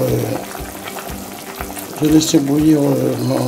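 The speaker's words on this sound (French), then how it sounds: "Quand mes légumes ont fini de roussir" Vegetables brown in a soup pot for a spaghetti and soy sauce soup, a loud steady sizzle with stirring and scraping throughout, and a voice rising briefly over it.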